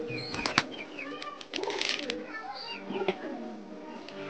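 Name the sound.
pigeons calling and fighting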